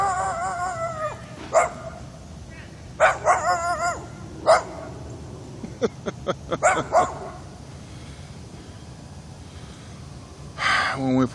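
A dog barks in a handful of short, loud bursts spaced across several seconds outdoors near a house on a flooded street, with someone talking between the barks.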